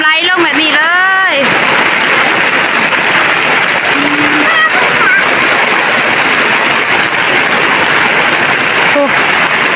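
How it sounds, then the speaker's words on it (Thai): Rainwater runs and splashes down in a steady, loud, close wash, and someone speaks briefly over it at the start. "น้ำไหลลงแบบนี้เลย"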